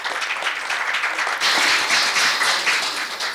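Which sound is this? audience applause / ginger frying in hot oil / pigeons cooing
audience applause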